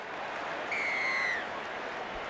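Crowd noise in a rugby league video game, a steady broad roar of a stadium crowd with a whistle-like tone rising over it, then a short thump at the end, with no talking.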